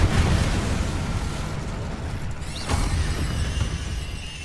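The Incendio fire spell is cast in Hogwarts Legacy: a loud, close whooshing burst of flame that swells, dips and surges again briefly before trailing off, with no voices.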